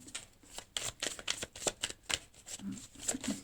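Playing cards riffled and sorted by hand, a run of quick papery flicks and shuffles close up, with a brief murmur of voice near the end.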